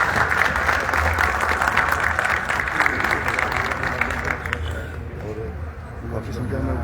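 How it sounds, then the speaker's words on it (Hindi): An audience at a real estate company event applauds to welcome a guest, Rohit ji. The steady, dense clapping fills the room under a speaking voice and fades after several seconds. "मैं स्वागत करना चाहूंगा रोहित जी का तालियों के साथ"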